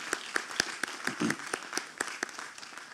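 Scattered, sparse hand claps at a lecture honoring a Brooklyn official, a thin round of clapping rather than full applause, fairly quiet and distant in a hall.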